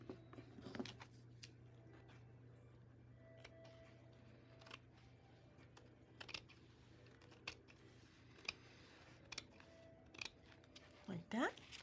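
Scissors trimming junk journal paper, heard as quiet sparse snips and clicks in a hushed room, ending with a sharper cluster of cuts.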